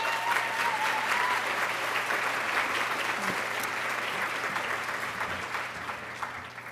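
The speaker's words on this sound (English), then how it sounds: "Give yourselves a round of applause" An audience at a women's day breakfast awards event claps continuously in a dense, even round of applause that tapers slightly toward the end.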